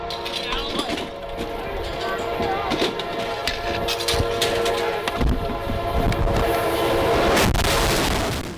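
An oncoming train sounds its horn, a loud sustained blare that swells as it approaches amid rumbling and clattering, with a voice talking over it.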